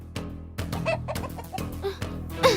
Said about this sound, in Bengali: মুরগি মা এদিকেই আসছে।